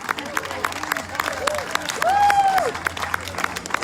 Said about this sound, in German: Mehr Applaus